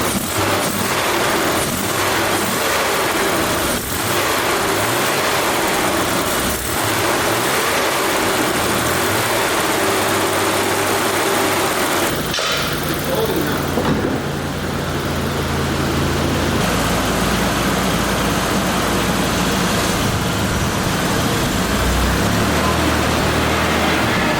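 A barn-find BMW E34 engine runs with a large intake leak, a steady close rumble that swells and shifts as the throttle is blipped partway through, with no talk over it.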